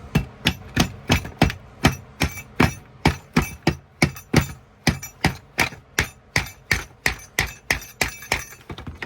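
Steady, rapid hammer blows strike a stubborn part on a Hakim rifle, about three ringing metallic whacks per second, close and loud with no talking.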